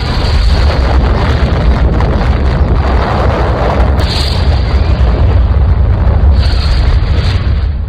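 Sustained, loud rumbling roar of an atomic bomb explosion effect depicting Little Boy over Hiroshima, a deep continuous boom-like blast with windy, turbulent texture lasting throughout, with no voices present.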